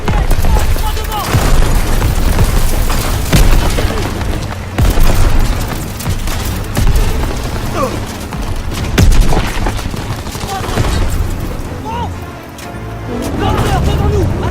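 Heavy gunfire and explosions in the World War II shooter Call of Duty WWII during Operation Cobra, dense rapid bursts and booms, loud and continuous, with shouted voices mixed through the battle.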